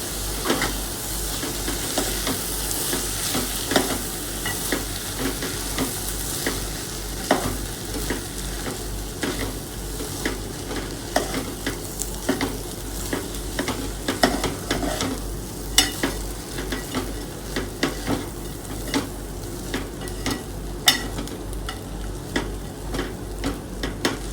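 Continuous close sizzling of masala frying in oil, with frequent scraping and tapping of a spoon stirring the pan throughout.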